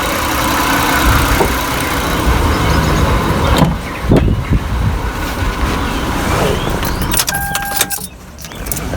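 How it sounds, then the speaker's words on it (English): A car engine idles in a steady low rumble with keys jangling, then cuts off partway through, leaving quieter clicks and rustles, with brief faint talk. "So let me go ahead and turn the car off."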